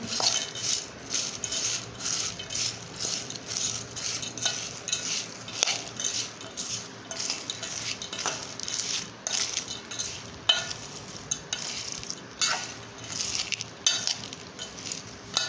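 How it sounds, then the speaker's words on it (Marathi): Crunchy finger bhel, made with finger-shaped snacks, is tossed and mixed in a bowl, giving a close, busy rattle of dry pieces in quick, repeated bursts throughout, with no talking. "हे आता मिक्स करून घेऊ."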